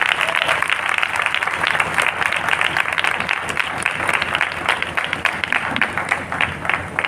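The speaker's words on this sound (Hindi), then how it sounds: "अब परमेश्वर की महिमा के लिए हम ताली बजा सकते हैं।" A church congregation claps together for the glory of God, a dense, steady burst of applause filling the room for several seconds.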